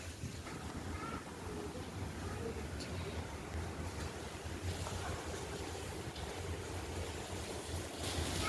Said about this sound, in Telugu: వావ్, బయట చాలా గాలి వస్తుంది గాయస్.